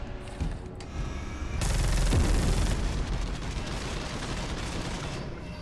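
In the Space Hulk Deathwing video game, a heavy-recoil gun fires in a sustained, loud, booming barrage of rapid shots that rises after a quieter start and keeps pounding to the end.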